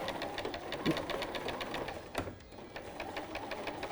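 A sewing machine stitching in a concealed zipper runs with a fast, even mechanical chatter of needle strokes, close and steady, briefly pausing near the middle before resuming.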